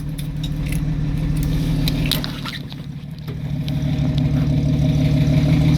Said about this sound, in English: I'm gonna start some other cars, so I unhook the thing from the keychain.